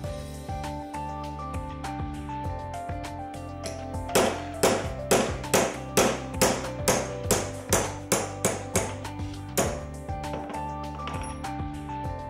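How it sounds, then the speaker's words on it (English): A small hammer taps a nail punch to knock out the blade pin of a Nes thread repair tool, a steady series of sharp metallic strikes, around a dozen evenly spaced clinks over a faint ringing background. "knock the pin out with the nail puncher using a small hammer"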